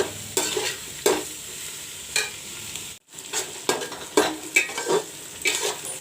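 Onion frying in a pan for a mutton jhol sizzles steadily, with bursts of stirring and scraping against the pan at irregular intervals and a brief drop to near silence midway.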